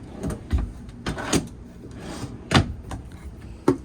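Cabinet drawers open and close inside a used 2016 Heartland Bighorn 3270RS fifth wheel trailer, several separate wooden slides and knocks spaced unevenly, close and fairly loud, with no talking.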